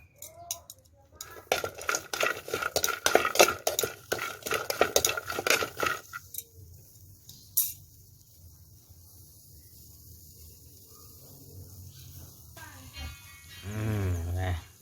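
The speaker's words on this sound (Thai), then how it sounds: "ขัวพริก หอมกระเทียม สามอย่างครับ ขัวให้สุก จะได้หอมๆครับ" Chilies, shallots and garlic being dry-roasted in a pan, heard as busy metallic scraping and clattering of a utensil against the pan for several seconds. The stirring then drops to quieter kitchen sounds, and a brief voice comes in near the end.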